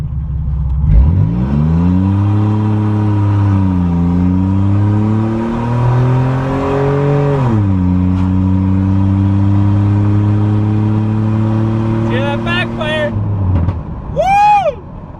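A modified minivan launches hard from a dead stop, its engine roaring close and loud as revs climb through several gear changes, then easing off with chirping squeals and pops near the end; a person talks over it.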